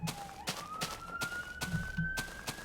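An ambulance siren passing outside, its tone rising slowly and steadily, heard at a distance behind a regular series of soft thumps.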